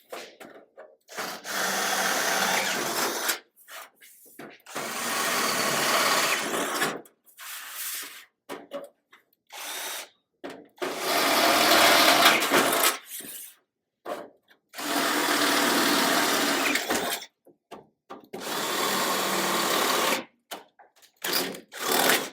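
A small drill bit, sized for a 1/4 inch solid round rod, bores a hole during custom car roof fabrication, the power drill whirring in repeated bursts of a few seconds separated by silent pauses.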